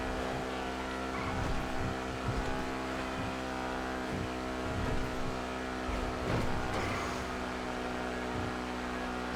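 A sports car in GTA 5 roars along at 150 mph, its engine droning at a steady high pitch with a loud, continuous hum and faint whooshing passes.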